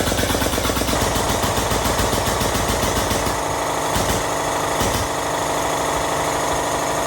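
A steel roll bar tube for a 1967 Nova is bent with a loud, rapid hammering mechanical chatter that runs continuously, with the tone shifting partway through as the bend progresses.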